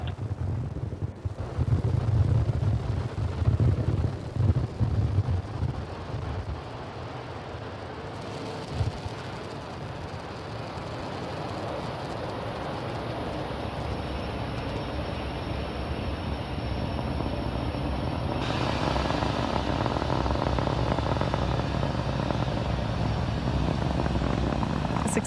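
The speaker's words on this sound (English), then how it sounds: "Successful liftoff for Falcon 9" SpaceX Falcon 9 rocket lifting off from pad 39A at Kennedy Space Center, a sustained heavy roar that begins with crackling wind-buffeted rumble and settles into a steady, broad, distant thunder lasting the whole stretch.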